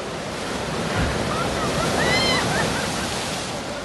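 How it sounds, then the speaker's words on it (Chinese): Big sea waves roll and break along the Qingdao seafront, a loud, continuous surf wash with wind buffeting the microphone, and faint high bird-like calls briefly rising above it. "顺着海边很快就走到了东海路，这里的海浪还是挺大的。"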